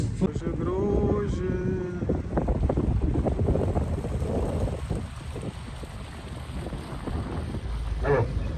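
A Premier Cruise boat heads out on Ha Long Bay, its low engine rumble mixed with heavy wind noise on the microphone, while a voice talks briefly near the start.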